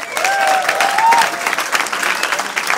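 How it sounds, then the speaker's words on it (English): An audience at a Pecha Kucha presentation evening in Amsterdam breaks into loud, sustained clapping, a dense close wash of applause with a few faint whistles or cheers mixed in. "give them a big applause."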